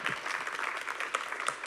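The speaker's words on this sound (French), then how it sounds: "Merci Loïc Landrieux, on vous applaudit" Audience applause at the close of a conference session at the Paris-Saclay Summit, a dense, steady patter of many hands with a few sharper claps, moderately loud and without talk.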